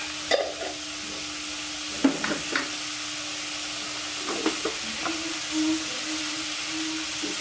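Onion and spices with turmeric and salt sautéing in a pan for kollu rasam, a steady faint hiss of frying broken by several soft scraping stirs of a spatula, with no talk.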